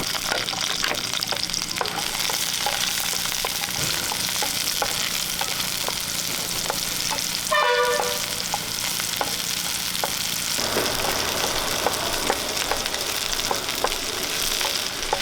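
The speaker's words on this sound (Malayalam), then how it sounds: "ഞാനിവിടെ കുറച്ച് ചുവന്നുള്ളി പൊളിച്ച് കഴുകി വൃത്തിയാക്കി എടുത്തിട്ടുണ്ട് അത് നമുക്ക് ഇതിലേക്കിട്ടൊന്ന് വഴറ്റാം" Red shallots sautéing in coconut oil for a Kerala-style mackerel curry, a steady close sizzle and crackle running throughout with light stirring scrapes and a brief clatter midway, no voices.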